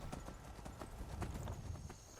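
Horse hooves clip-clopping in the video game Skyrim, a steady rapid trot of quiet rhythmic hoofbeats over a low rumbling background, no talk.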